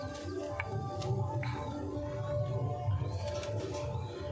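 Punjabi Malwai pigeons coo in low, soft, repeated calls close by on a rooftop, with a few faint chirps from other birds in the background.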